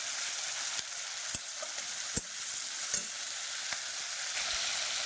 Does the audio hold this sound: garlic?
yes